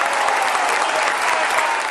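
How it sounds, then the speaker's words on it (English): Faithful in Buenos Aires, Argentina, clapping and cheering for the new pope; dense, steady applause from a large crowd, loud and continuous throughout with no gaps. "The faithful clapped and cheered that they'd lost a cardinal but gained a pope"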